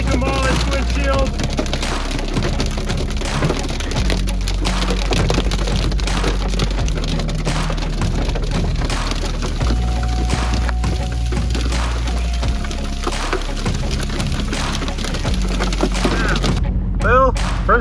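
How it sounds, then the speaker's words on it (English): Hailstones pound a car windshield during a tornado-season storm, cracking the glass in many places, a dense loud barrage of sharp hits and cracks that never lets up, with a voice speaking over it. "first time I've had hail really destroy my windshield, where it's broken in a lot of different places."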